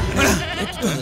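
A goat bleats in a short, wavering cry close by, with voices talking underneath in a comic scene.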